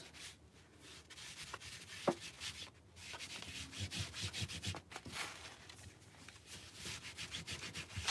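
Hands smooth craft fabric flat into a canvas frame while making an Easter sign, giving soft, continuous rubbing and brushing strokes, quiet and close, with no talking.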